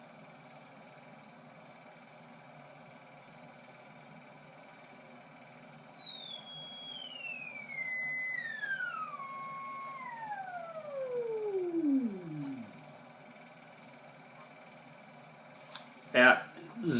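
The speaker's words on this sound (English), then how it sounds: "not the cleanest sine wave, but it is there" A thin electronic sine tone from a 413-B oscillator sweeps steadily downward from a very high pitch to a low one over about twelve seconds, with a fainter parallel overtone.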